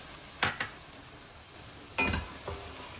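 Tomato paste with green chillies sizzles steadily in a pan as the base for a country chicken curry, with a continuous hiss broken by a few clattering stirs of a utensil against the pan; no one speaks.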